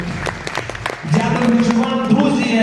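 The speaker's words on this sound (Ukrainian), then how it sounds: "привітаємо ведучі сьогоднішнього вечора Катерина Зелінська, чарівна і прекрасна, з аплодисменти." An audience at a Ukrainian motoball event claps for the evening's host with a burst of distinct claps. A voice soon speaks over the continuing applause.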